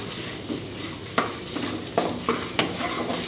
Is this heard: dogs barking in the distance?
no